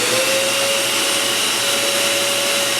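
A Hercules 12 gallon OSHA-compliant dust extractor running with a hose attached, giving a steady, loud broadband whoosh with a faint constant motor whine and no talking.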